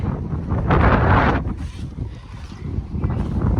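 Gusty wind buffets the microphone in loud rumbling bursts that rise and fall, with no one speaking.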